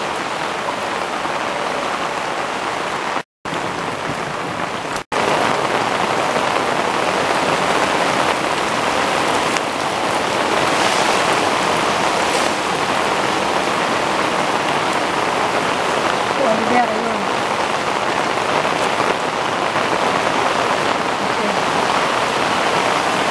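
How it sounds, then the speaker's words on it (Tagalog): Heavy rain pours down steadily over a flooded street, a dense continuous wash of drumming water close around, with a brief dropout early on and no clear talk. "Lakas-lakas na ng ulan."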